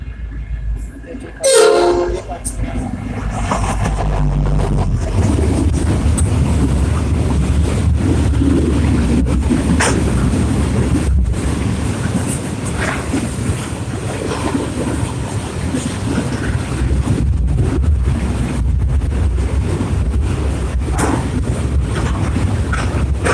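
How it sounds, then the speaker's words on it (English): A Warrnambool freight train roars past through South Geelong steadily with rumbling wheels and rattling wagons, a brief horn-like tone early on, loud and close throughout. "Warrnambool freight flying through South Geelong"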